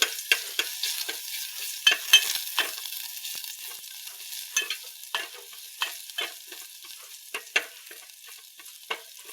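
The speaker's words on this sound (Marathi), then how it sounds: "थोडंसं लसूण फोडणीला द्यायचा." Garlic fries in about a spoonful of oil for a tempering, a soft continuous sizzle broken by repeated close scrapes and clicks of a spoon stirring the pan, with no talking.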